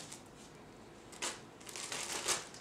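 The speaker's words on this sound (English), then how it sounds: "take one of your plastic bags, going to open it up and put your 3 strawberries inside" A plastic bag is opened by hand and three strawberries go inside for a home strawberry DNA extraction; soft, quiet crinkling and rustling comes in a few short bursts.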